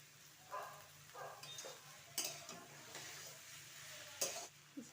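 Cabbage being stirred in a pan for a Bengali vegetarian dish, with irregular scraping strokes over a soft sizzle, close and moderately quiet, no talking.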